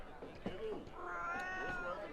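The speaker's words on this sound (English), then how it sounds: "It's meowing like a real cat, though." A cat meowing in the video game The Last Story, a couple of drawn-out, wavering meows that are close and clear, with someone talking over them.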